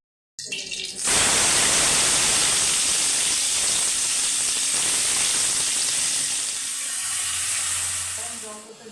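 Whole spices and a spice paste hit hot oil in a pan for Nawabi chole: bay leaf, cloves and cardamom set off a loud, steady sizzle that starts abruptly and holds, with a faint voice near the end.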